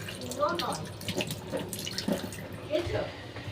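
Tap water runs steadily while cut potatoes are washed in a home kitchen, a close splashing flow under talk.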